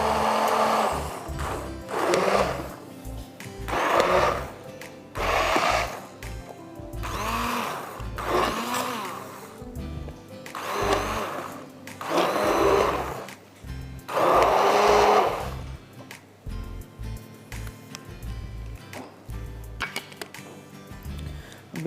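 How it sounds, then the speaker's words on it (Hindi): A hand blender runs in repeated short bursts, whirring loudly for a second or two then pausing, with a soft thudding whir as it blends thick seafood soup. "अब या तो आप ब्लेंडर में डाल दीजिए या मेरी तरह मैं आपको दिखाती हूँ, हैंड ब्लेंडर ले लीजिए"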